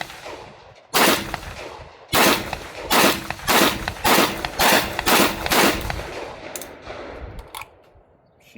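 A Rock Island Armory VR80 semi-automatic shotgun fires about ten loud, sharp blasts outdoors at an uneven rhythm, each report ringing briefly before the next, with quieter shuffling after the last shot.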